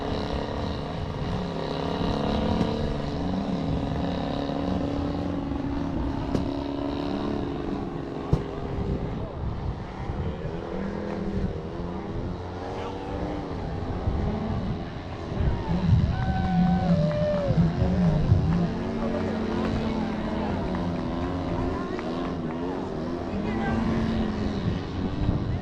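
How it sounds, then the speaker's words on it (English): Several radio-controlled pattern flying model planes drone overhead at an annual airshow and fun fly, a continuous wavering propeller whine shifting in pitch over wind and crowd noise, with people talking throughout. "there's 3 pattern flying planes in the air"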